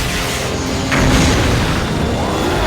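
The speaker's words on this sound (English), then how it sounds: "The desert army pulls up and starts shooting at our guy." Army forces open fire on Godzilla in an animated series, a heavy rumbling boom swelling midway through a dense, roaring wash of noise.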